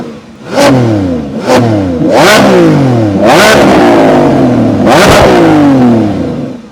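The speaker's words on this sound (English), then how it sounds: "So how do you guys like the sound? The inside, the outside of the all-new Lamborghini Revuelto." A 2024 Lamborghini Revuelto V12 engine revs hard several times in a row, each sharp roar climbing and falling back, loud and close with a rough mechanical edge.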